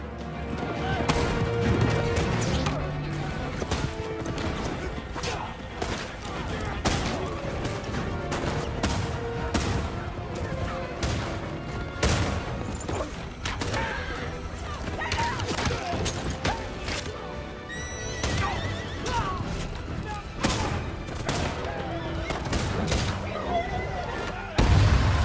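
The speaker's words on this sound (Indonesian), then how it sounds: "Dalam pertempuran ini, Faraday harus terkena tembak." Gunfire during a film battle against bandits: repeated sharp shots and booms spread throughout, mixed under continuous narration in Indonesian and a dense score.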